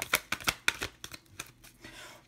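Oracle cards being shuffled for a reading, a run of close, papery riffles and slaps in quick uneven rhythm, fading into a soft rustle at the end.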